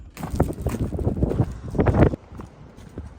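Gusty desert wind at Quartzsite buffets the microphone in uneven rumbling bursts, then eases off near the end.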